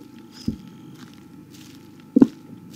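Footsteps in the horror video game Slender: two separate muffled thuds over a low, steady ambient drone, fairly quiet and far apart.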